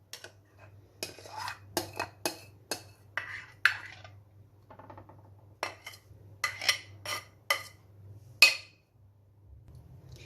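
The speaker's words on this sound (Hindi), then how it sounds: "अब इसको अच्छी तरह मिक्स करते हैं। अब मैं इसको एक बाउल में शिफ्ट करके" A spoon clinks and scrapes against a bowl while raita is stirred and transferred, giving a string of sharp, close metallic taps in irregular bursts over a low steady hum, with no talking.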